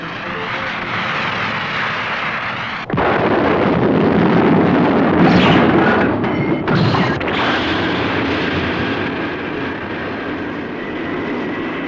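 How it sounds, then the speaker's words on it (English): A cartoon rocket ignites with a sudden roaring blast that swells into a loud, sustained rumbling thrust, with whooshing surges as it launches. "10, 9, 8, 7, 6, 5, 4, 3, 2, 1. Ignition."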